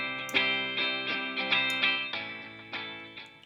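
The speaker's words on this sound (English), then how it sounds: "And there's the reverb." In Cubase, a rich, sustained electronic tone with reverb applied plays a run of repeated notes, each one ringing out and blending into the next.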